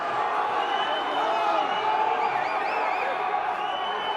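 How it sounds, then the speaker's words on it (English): A stadium crowd at a Munster versus Ulster rugby match grows restless over a slow Ulster line-out, with a continuous loud roar of murmuring and jeering voices and some whoops rising through it. "Crowd getting incensed over what they feel is an Ulster committee meeting before every line-out"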